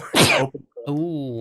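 A single sharp, close sneeze bursts out during a tabletop role-playing game session, followed by a brief pause and then someone speaking.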